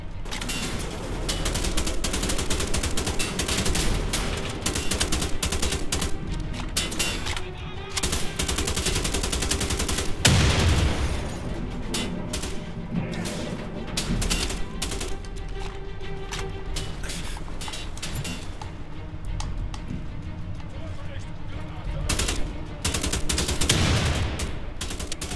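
Sustained gunfire from the video game Wolfenstein: The Old Blood, dense overlapping bursts and explosions running loud and nearly continuous throughout, with brief lulls between volleys.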